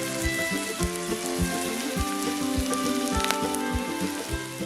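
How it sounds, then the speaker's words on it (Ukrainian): Onion sizzling in oil with a knob of butter in a frying pan, a steady crackling fry running throughout with some repeated low thuds underneath, fairly close and with no talking. "На пательню леємо трішки олії та відправляємо цибулю. Шматочок вершкового масла для більш насиченого аромату."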